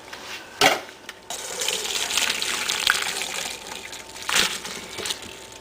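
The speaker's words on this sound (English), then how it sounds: "Okay, so the noodles are done. You want to take them and drain them." Cooked spaghetti noodles are drained, the water gushing and splashing into a sink in a steady rush, with a couple of sharp metallic knocks from the pot.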